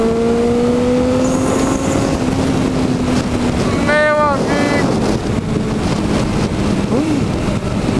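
A red Honda CBR 600RR four-cylinder motorcycle engine revs steadily with rising and falling pitch sweeps, loud over constant wind noise outdoors, with a brief sharper rev burst near the middle.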